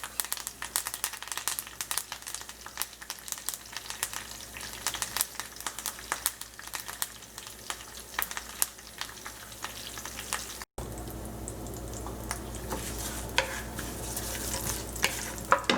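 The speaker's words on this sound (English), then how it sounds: "Alright, I'm going to add some curry leaves now." Curry leaves frying in a pan for poha, giving a steady, close crackling sizzle with bursts of popping, which grows louder and denser after a brief break.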